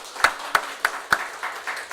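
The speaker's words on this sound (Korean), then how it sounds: "우리 하나님께 영광의 박수 올립시다" A church congregation at a Sunday worship service claps together in sharp, evenly spaced beats. Four crisp claps ring out before the rhythm softens and fades into lighter, scattered clapping.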